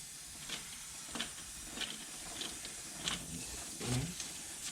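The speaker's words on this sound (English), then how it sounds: "I'm just going to spin the wheel and spray on a nice coat of chain wax." Chain wax sprayed onto the spinning chain of a 2015 Honda CTX 700 motorcycle, with faint hissing spray bursts over a low rolling rumble and occasional soft clicks.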